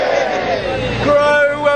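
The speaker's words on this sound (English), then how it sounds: "so you can just cheer" A rally crowd in London cheers and whoops together at a climate protest about aviation, a loud, sustained wash of voices that swells toward the end.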